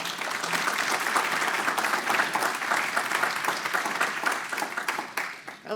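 An audience at an executive luncheon breaks into warm, sustained applause, many hands clapping densely and loudly in a large room, tapering slightly toward the end.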